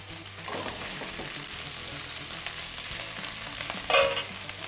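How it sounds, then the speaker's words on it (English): Steak sizzling in a hot pan, a steady crackling fry heard up close and fairly quiet, with a brief sharper clatter near the end and no voices. "That sizzle to seal the meat instantly"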